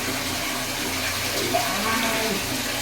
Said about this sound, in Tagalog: Lagyan natin ng tubig para makabalaw tayo